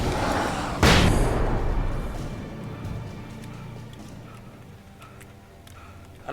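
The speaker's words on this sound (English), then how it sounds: "Oh, you're throwing flashbang." A flashbang grenade goes off in the video game Alan Wake: one sharp, loud burst that quickly fades into a ringing, rumbling tail with faint ticks and clicks, and no voices.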